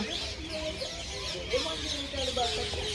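Several ducks call in short quacking and clucking bursts, close by, while a person talks over them.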